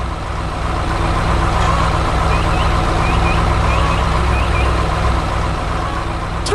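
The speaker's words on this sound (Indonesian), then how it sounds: "Truk merah berada di samping kreni besar." An animated red truck reverses beside a large crane on a farm field, with a loud, steady engine drone and a few faint, high repeated beeps over it.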